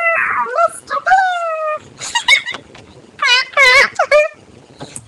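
A person's voice imitates a duck with wobbly, nasal squawks and yips in quick, uneven bursts, close and loud, as part of a run of comic vocal sound effects.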